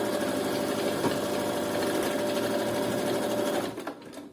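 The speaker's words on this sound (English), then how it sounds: "we're going to sew another straight stitch across so we can tuck our strings in there" A sewing machine runs a straight stitch across a string bikini top, with a loud, steady, rapid mechanical whir up close that slows and stops near the end.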